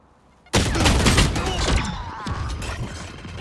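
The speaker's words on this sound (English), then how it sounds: "Flashbang." A flashbang grenade pops in Valorant with a sudden loud burst after a quiet lead-in, followed by a ringing, crackling tail that slowly fades over a few seconds.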